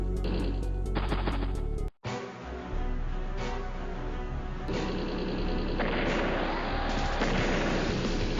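Tank artillery fire in the strategy video game Advance Wars: Days of Ruin, a loud burst of repeated booming shots, a short gap, then a sustained barrage of gunfire and explosions.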